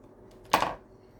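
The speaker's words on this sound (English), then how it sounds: "And cut off anything I don't need." Craft material for a Christmas draft excluder is trimmed with one brief, fairly close snip or rustle.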